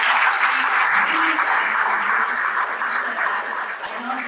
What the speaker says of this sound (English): So a huge round of applause for Swiggy.